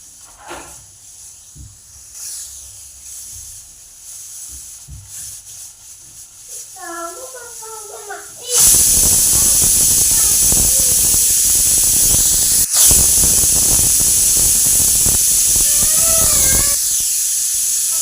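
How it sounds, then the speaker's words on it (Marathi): Quiet kitchen sounds and brief voices, then a pressure cooker cooking whole masoor lentils bursts into a loud, sustained hissing whistle that continues to the end. "कुकरच्या 2 शिट्ट्या झालेल्या आहेत।"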